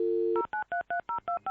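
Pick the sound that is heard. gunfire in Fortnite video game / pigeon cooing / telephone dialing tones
telephone dialing tones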